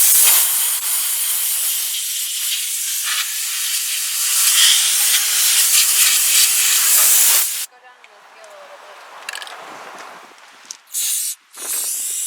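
Compressed air blasts out a truck rocker panel during a slip-on rocker cover install, a loud steady hissing rush for about seven seconds, then quieter intermittent spurts and short bursts.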